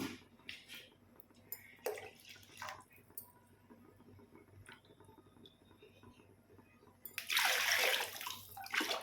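Water poured into a pot for bagara rice, a loud rushing splash near the end after scattered quieter clanks and drips in a kitchen.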